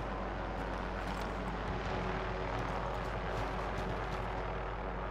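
A helicopter flying in a video game, a loud continuous rotor and engine roar with a rough pulsing texture, close and steady throughout.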